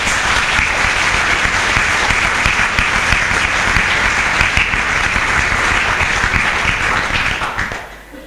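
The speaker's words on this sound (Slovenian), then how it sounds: "Skratka, še enkrat en aplavz za vse tri." Sustained applause from an event audience honoring three people, dense steady clapping at full level that tapers off in the final second.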